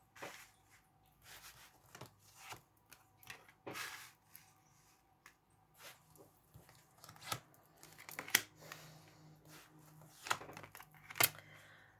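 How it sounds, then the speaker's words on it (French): Tarot cards being handled and spread out on a table: soft, quiet rustles, flicks and taps in an irregular patter, close by, with a few sharper card slaps toward the end. "on va aller étaler les cartes"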